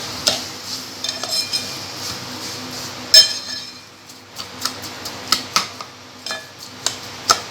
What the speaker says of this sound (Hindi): अब हमने इसको अच्छी तरह से चलाते रहना है।